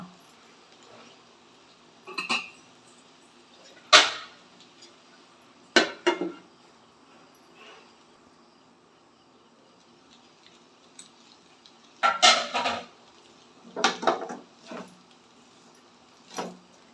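A lid set over a pan of spiral pasta cooking on a low flame, giving several sharp metallic clatters and knocks spaced apart, with quiet stretches between them.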